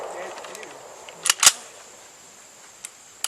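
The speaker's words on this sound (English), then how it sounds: "Throw some rounds down range." Shots from an SKS rifle fired down range at an outdoor shooting area, a couple of sharp close reports in quick succession followed by fainter distant cracks.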